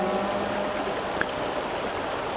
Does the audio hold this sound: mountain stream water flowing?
yes